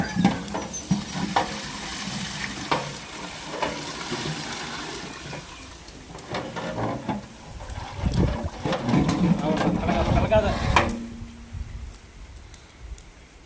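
Spices for pepper rasam temper in hot oil with crackling, irregular sizzle and clattering stirs that swell loudest midway, then drop away to near quiet near the end, with a voice occasionally underneath.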